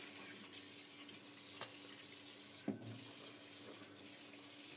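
Tap water runs steadily into a sink while fish are washed by hand in a home kitchen, a continuous close splashing hiss broken by a few brief knocks and clatters, with no voices.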